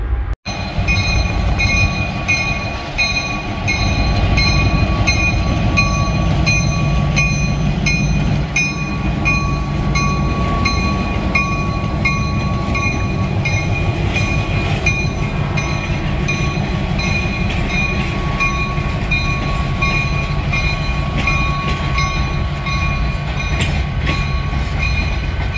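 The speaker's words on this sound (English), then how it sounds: "There's a closer look at the Illinois Terminal locomotive." Diesel locomotive rolling along the rails at the Illinois Railway Museum during a diesel days event, a loud steady engine rumble with a faint whine and light wheel clatter running without a break close by.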